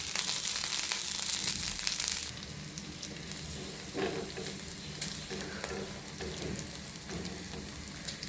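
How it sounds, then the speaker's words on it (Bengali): Garlic, dried and green chilies fry in mustard oil in a pan, giving a steady, dense sizzle that drops slightly in level after the first two seconds, with occasional soft clinks of stirring. "তার মধ্যে আমি সরিষার তেল দিয়ে দিলাম, তারপরে রসুন কুচি দিয়ে দিলাম, শুকনো মরিচ দিয়ে দিচ্ছি"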